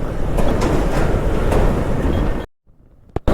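A train rumbling past beneath a bridge, heard as a loud continuous roar with heavy wind buffeting the microphone from a moving motorbike, cutting off abruptly near the end.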